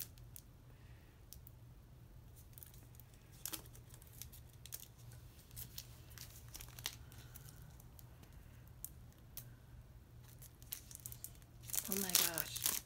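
Crinkly plastic wrapping around a K-pop merchandise set is torn and crumpled open near the end, after a stretch of faint scattered rustling and clicks under quiet room hum.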